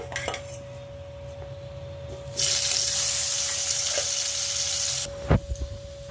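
Potato pieces coated in turmeric and salt hit hot oil in a pan, bursting into a loud, steady sizzle that holds for a few seconds, with utensil clinks before and after.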